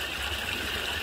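A stream flows at night under a full moon, its water rushing in a steady, even wash that stays close and constant with no breaks or voices.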